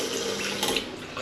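Water runs after a repair to a burst copper pipe in a toilet area, a steady close rush and splash like a tap flowing, with no talk.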